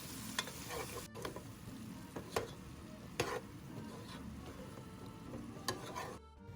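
Tomatoes sauteing in hot oil with pepper flakes, a faint steady sizzle with occasional light clicks of stirring, close and quiet with no talking.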